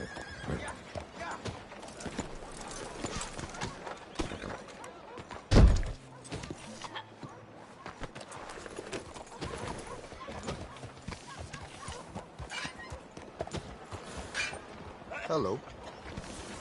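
A horse in Red Dead Redemption 2 trots with repeated hoofbeats and whinnies, a heavy thud midway, while voices talk over the scene.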